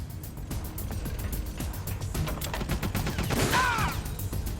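Gunfire in Metal Gear Solid: The Twin Snakes, a steady run of rapid shots and clattering game effects that fills the whole stretch and grows louder near the end, with a brief rising electronic tone in the mix.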